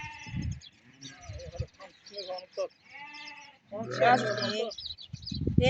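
Sheep and lambs bleat repeatedly in a farm flock, the calls overlapping with nearby voices speaking throughout, loudest and most crowded toward the end.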